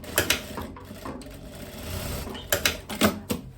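A sewing machine stitches a seam on a long loose dress, fast mechanical chatter in short close bursts with small clicks and gaps between runs.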